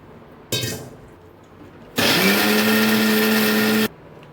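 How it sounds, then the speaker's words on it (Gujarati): Kitchen mixer grinder blending boiled spinach for palak paneer: a short motor burst, then a steady loud whir of about two seconds with a rising pitch as the blades spin up. No talk. "પાલકને મેં બોઇલ કરી લીધી છે અને આ મિક્સરમાં"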